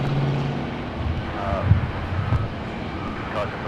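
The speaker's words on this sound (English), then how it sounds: "there they go on the roll, the GE90s, full thrusts" Air France Boeing 777 with GE90 engines at full thrust on its takeoff roll down a runway at LAX, a broad, steady roar with gusty rumbling, heard beneath someone talking continuously.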